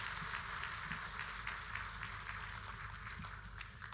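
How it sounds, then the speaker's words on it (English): Faint, distant clapping from a health workforce conference audience patters on steadily for a few seconds beneath a low hum of room noise. "Another round of applause as they take that photo."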